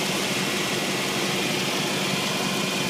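A 2001 Chevy 8.1L (496) big block V8 engine runs loud and close, a dense steady rumble with no pauses, revving on its own.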